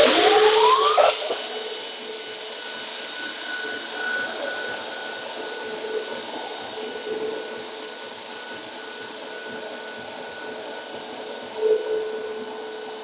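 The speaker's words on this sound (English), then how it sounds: "Now we'll just finish that off by taking it to the line on the edge sander." An edge sander runs steadily on a walnut drawer front, giving a continuous whirring belt drone with faint scraping as the wood is pressed to the belt, loudest at the start.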